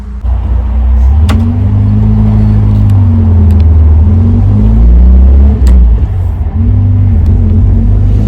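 A Chrysler Scorpion car drives at a steady cruise, its engine holding a loud, continuous low rumble with a few small shifts in pitch and no voices.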